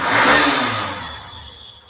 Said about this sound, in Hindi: स्टार्ट करने की बात करें तो स्टार्ट ये भी करके दिखा देते हैं।